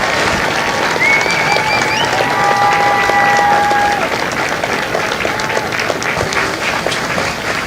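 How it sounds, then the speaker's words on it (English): Audience applause fills a Marine Corps Recruit Depot San Diego graduation ceremony, steady dense clapping mixed with crowd cheers and a few whistles, loud and continuous throughout. "Ladies and gentlemen, a round of applause for their dedicated service to corps and country."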